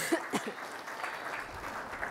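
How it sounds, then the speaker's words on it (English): Audience applause at a university open-day chemistry lecture, a short burst of scattered clapping that fades into a brief murmur. "So give her a round of applause."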